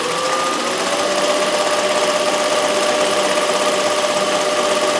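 An embroidery machine running at 2,000 stitches per minute gives a steady, loud mechanical whir with a constant high-pitched hum, unbroken and close throughout.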